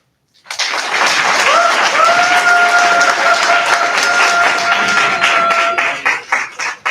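Alumni audience at a 1997 EXTC batch meet and greet breaks into loud, sustained applause from many hands, with a few cheers, holding steady for about five seconds before trailing off into scattered claps.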